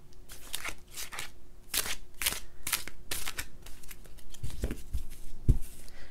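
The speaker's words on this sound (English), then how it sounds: "And then I'll just shuffle them." Thick tarot cards riffle and slap together in a steady run of crisp, papery bursts, close up, with a few heavier thumps near the end.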